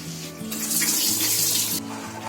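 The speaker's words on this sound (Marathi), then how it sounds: "आता याचं पाणी काढून टाकते." Soaked green chickpeas are drained in a kitchen, and the water runs off steadily in a continuous close splashing pour.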